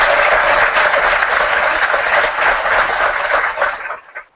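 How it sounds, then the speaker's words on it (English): Sustained applause from the audience at a high school graduation ceremony, a dense steady wash of many hands clapping that fades out near the end. "Let's give them a round of applause."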